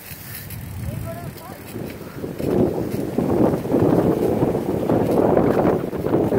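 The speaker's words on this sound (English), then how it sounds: "Ah, this wind." Gusty wind buffets the microphone outdoors in a park, a broad low rumble that swells louder after the first couple of seconds, with voices speaking faintly underneath at the start.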